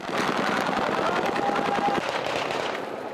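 A continuous frenzy of rapid gunfire near Syria's Sednaya prison, with dense overlapping automatic bursts and loud crackling shots filling the whole stretch.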